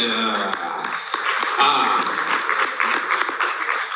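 Audience applause fills an evening celebration, a steady burst of many hands clapping that carries through the whole moment, with a voice speaking over it.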